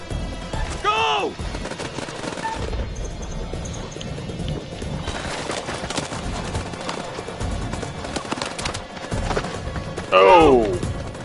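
Gunfire crackles through a firefight in the video game House of Ashes, with dense repeated shots under game ambience, shouting voices and a loud burst near the end.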